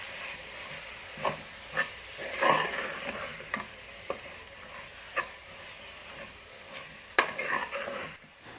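Turmeric, chilli and coriander powders get mixed in a pan for beef curry: a soft hiss of frying under scattered clicks and scrapes of a ladle stirring, with a busier clatter near the end and no talking.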